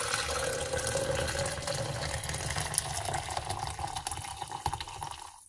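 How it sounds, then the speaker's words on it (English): Hot water pours steadily into a cooking pot, a continuous close splashing rush that holds for several seconds before stopping abruptly, with no talking. "So I'm going to add some water in here."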